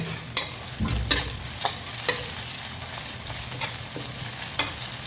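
Green chillies fry in about 5 ml of sunflower oil in a pan during egg gravy preparation, giving a steady close sizzle under sharp repeated clinks of a spoon stirring against the pan.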